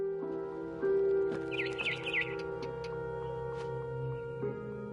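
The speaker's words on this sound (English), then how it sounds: "Then I heard chirping outside my window. It was a barn swallow going back to her nest." A few quick, bright barn swallow chirps in the video game What Remains of Edith Finch flutter briefly over a steady, droning musical backdrop.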